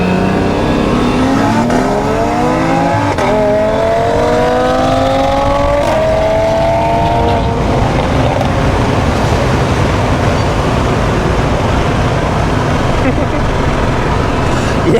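A BMW E90 335i with the N54 engine and other cars accelerate hard in a roll race, engine pitch climbing through gear changes into a loud roaring rush of wind and road noise, with people talking over it.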